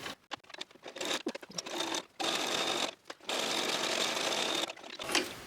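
A sewing machine stitching lace, running in fast mechanical bursts with short pauses between runs, close and fairly quiet.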